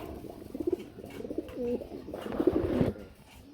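Pigeons coo softly and repeatedly at close range, a red-coloured pair among birds kept for sale, their low rolling calls rising and falling with faint rustling in the background and no voices.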